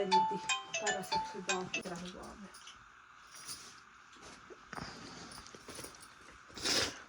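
A melodic phone ringtone plays a quick repeating tune for a couple of seconds, then stops, followed by quiet rustling and a brief voice.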